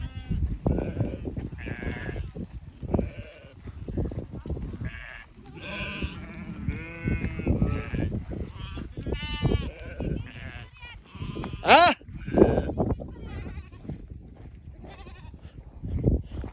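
Goats in a Mongolian nomadic herd bleat again and again, close and fairly loud, with a person talking quietly among the calls.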